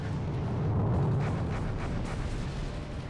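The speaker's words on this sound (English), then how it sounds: "That was a bomb drop. Oh yeah, multiple bomb drops." Bombs dropped from aircraft explode in the Armored Brigade war game, set in a 1971 US campaign: a dense, continuous roar of blasts and rumble lasting a few seconds, with no talking.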